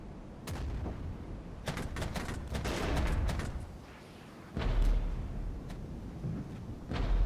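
Gunfire and artillery fire in the WWII-style strategy game Regiments: repeated sharp shots and heavier booms crackle through a dense, continuous battle din, with a louder burst of impacts near the end.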